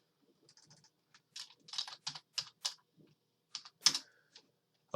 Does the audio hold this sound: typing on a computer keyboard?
yes